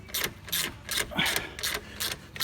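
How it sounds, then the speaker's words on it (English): A ratchet socket backs out the E-bit stud on a Ford Focus Mk2 1.6 Zetec engine, giving about five quick, close bursts of clicking in an uneven rhythm. "Put your socket on that and you've got to remove the stud and take it all the way out."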